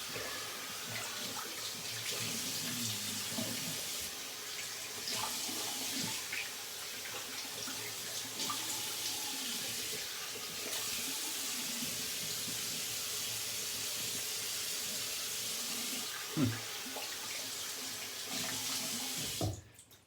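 A tap runs steadily into a sink while shaving soap is rinsed off a face, a constant close splashing flow for the whole stretch, with a brief knock near the end and no talking.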